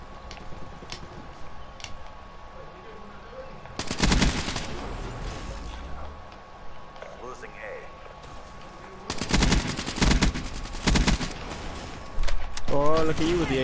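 AK assault rifle firing in Black Ops 3: several loud bursts of rapid automatic gunfire separated by quieter stretches, with voices speaking between and over the shots.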